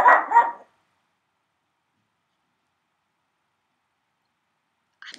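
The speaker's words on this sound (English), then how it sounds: "I think he's barking at some noise." A dog barks twice in quick succession, then long silence before a faint bark at the very end.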